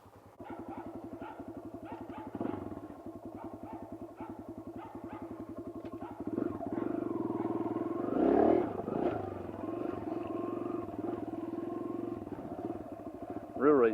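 Kawasaki KLX140 dirt bike engine putting along at low speed, a steady pulsing thump that rises briefly as the throttle opens, with wind and a voice faintly underneath.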